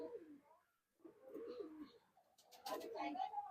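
Madrasi pigeons coo in a loft, soft and low throaty calls close by, with some flapping or rustling near the end.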